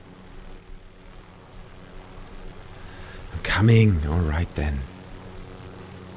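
A damaged, smoking helicopter in the Warzone game hums as a steady low engine drone throughout, with someone speaking briefly over it near the end.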